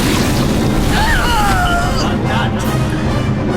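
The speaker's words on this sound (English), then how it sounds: "another magic missile" Magic missile spell cast in the video game Neverwinter Nights: a loud, dense whooshing burst with a gliding, whistling streak, heard alone and close for a few seconds.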